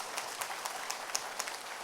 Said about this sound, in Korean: 박수 쳐보세요.